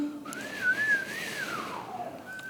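Human whistling imitating wind, a wavering pitch that swoops up and down and rises and falls in a continuous breathy line, fairly close and clear, with no talking over it.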